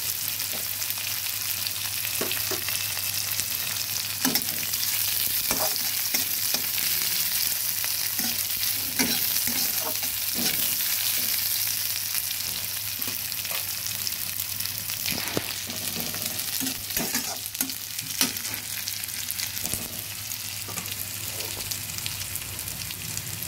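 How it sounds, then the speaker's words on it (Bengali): Onions sizzle and crackle in hot oil with whole spices, with intermittent scraping and clinking of a spoon stirring the pan throughout. "পেঁয়াজ ভাজা হয়ে এসেছে"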